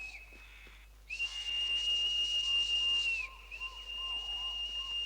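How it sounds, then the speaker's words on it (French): A high, steady whistle rings out for about two seconds in a French cartoon episode of David the Gnome, someone whistling for help; it swells in loudly over a quiet background, then fades back to a fainter sustained tone. "Ah, mais oui, quelqu'un siffle."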